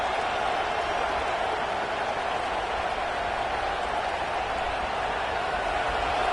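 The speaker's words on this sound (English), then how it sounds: "And the crowd coming to life here, trying to help this defense down in the red zone." A football stadium crowd during a game, with the defense on the field in the red zone, gives a steady, broad roar of cheering and noise that stays even and continuous throughout.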